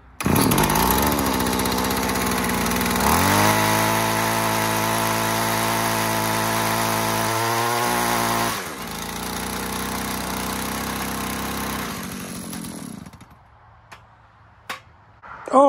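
A gas-powered ice auger runs loudly and steadily as it spins in the ground, failing to bore a post hole. The engine drone holds for about eight seconds, drops off, idles lower, then cuts out into near silence with a few clicks.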